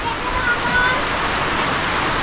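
Heavy rain pours down on a chili pepper farm as a loud, dense, unbroken roar that stays steady from start to finish.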